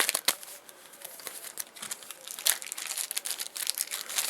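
Plastic packaging bag crinkling and rustling up close as a Boker Titanium Subcom folding knife is unpacked, with sharp crackly bursts of handling through the whole stretch and no talking.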